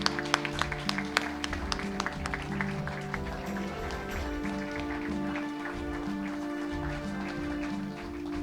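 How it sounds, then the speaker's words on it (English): Steady applause from a crowd, continuous clapping with scattered sharper claps, moderately loud and sustained throughout. "give her a big round of applause"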